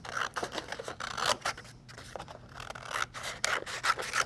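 Scissors snipping apart hand-colored paper animal cards at a craft table, a series of close, quiet cuts and rubbing paper rustles in an uneven rhythm with short pauses, no talking.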